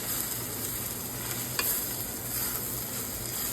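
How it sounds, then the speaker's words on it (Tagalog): Carrots tipped into a pan of translucent onions, sizzling steadily while being stirred, with a brief scrape partway through; close and alone, no talk. "Ayan, pag translucent na yung sibuyas, ilalagay na natin ang carrots."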